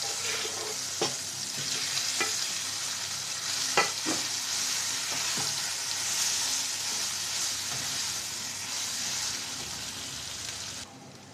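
Taro paste frying with dried chilli in a pan while being stirred, a steady close sizzle with scraping stir strokes and a few sharp clinks, no talking.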